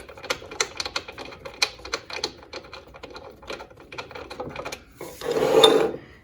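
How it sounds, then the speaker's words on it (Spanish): Small screw being backed out of a metal-cutting saw in a welding workshop, with a run of quick clicking, ratcheting taps, then a brief louder rubbing scrape near the end; close and fairly quiet, with no talking. "Aquí simplemente voy a quitar este tornillo."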